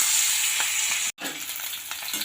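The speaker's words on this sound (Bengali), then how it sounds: "এরপর তেল গরম হয়ে গেছে, আমি প্রথমে ওই মাছগুলো ভেজে নেব।" Carp pieces fry in hot oil with a loud, dense, continuous sizzle close by, broken by one brief silent cut before the hiss resumes with faint stirring crackles.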